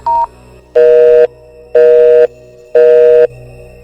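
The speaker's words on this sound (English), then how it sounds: "I could use this phone to call for help." Phone dialing in a video game: a short high beep, then three long, loud, evenly spaced electronic tones with pauses between, clean and close with no talk.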